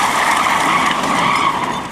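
Car tires skid hard during a staged crash test, a loud, sustained squeal with harsh noise held steady for about two seconds before easing slightly at the end.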